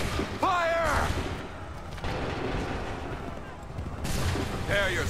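Musket volleys crack out in Assassin's Creed III, loud broadband blasts with rumbling tails, one early and another near the end, while shouted commands ring over the din.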